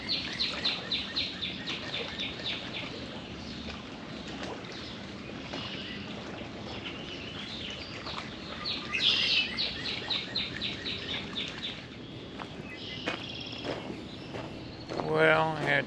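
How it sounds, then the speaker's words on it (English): Birds chirp in short repeated bursts on a rocky Lake Erie shoreline in Ohio, loudest near the start and again around the middle, over a steady outdoor background of wind and water. "Listen to the birds chirp."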